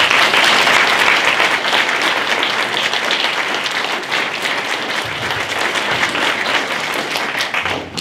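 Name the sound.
audience applause at a debate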